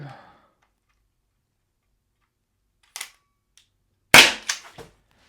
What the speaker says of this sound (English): You can hear it pierce the CO2 before you fire.